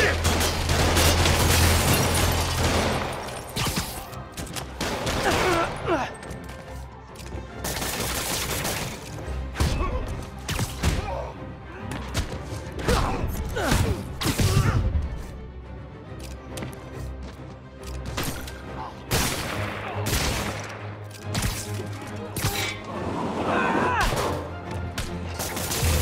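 Gunfire in a Spider-Man video game, with loud broadband shots and impacts recurring in clusters throughout a long, busy stretch of action and booming hits.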